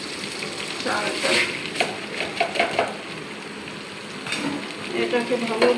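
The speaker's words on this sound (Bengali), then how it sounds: "চালটা ভাজা ভাজা হয়ে আসছে" Rice fries in ghee in a pan for biryani, a continuous close sizzle broken by several scraping stirs and clinks of a spoon, loud and steady throughout.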